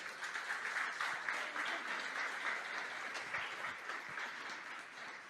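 A church congregation applauds the Lord during a sermon, a fairly distant, even wash of clapping that carries on steadily throughout.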